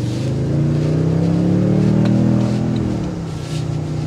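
The engine of a 2024 Toyota Tundra 1794 pickup truck pulls strongly with a deep, steady rising drone, loud and close, and eases off slightly near the end.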